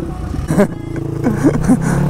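A KTM Duke 200 motorcycle engine hums low and steady beneath a close voice that calls out with rising and falling tones over about two seconds.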